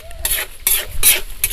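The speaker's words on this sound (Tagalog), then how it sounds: "Para haluin natin ng haluin hanggang sa matuyuan siya ng tubig at magiging na siya, sugar coated." Peanuts coated in sugar are stirred in a pan, producing four quick, loud scraping sweeps with a sizzling rasp, close up and with no talking.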